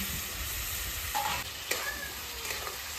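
Potatoes stirred and sautéed with spices in a pan, a soft steady sizzle with scraping and stirring clatter of the utensil, fairly quiet and without talk.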